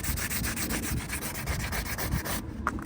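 Hand sanding with 180-grit sandpaper scuffs the edges of a repair area before fiberglassing, a close, steady rhythm of rapid rasping strokes that pauses briefly near the end.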